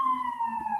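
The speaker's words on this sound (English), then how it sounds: "Okay, New York City sirens." A New York City emergency vehicle siren wails in a brief, fairly faint steady tone drifting slowly downward, heard from a distance.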